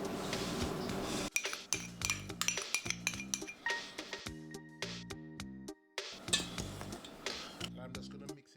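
Flour, baking powder, nutmeg and allspice being mixed in a bowl: crisp rhythmic clinks and taps of a utensil against the bowl, close and distinct, with short pauses between strokes and background music.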